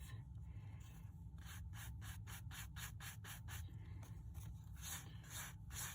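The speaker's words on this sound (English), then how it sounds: "take your glitter resist brush and we're going to get all of that excess glitter off" A glitter resist brush sweeps excess glitter off a card, giving soft, quick scratchy strokes in rhythmic bursts, close but quiet.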